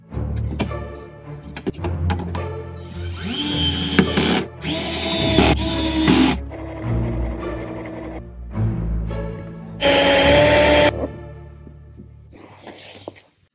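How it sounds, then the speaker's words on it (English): A power drill boring a hole for an LED light wire during a repair, running in several loud bursts of a few seconds each, with short pauses and clunks in between and no talking. "I'm gonna drill through that way and come through"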